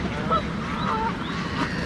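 Canada geese honk in a park by receding water in February, a few brief calls among other birds at moderate distance.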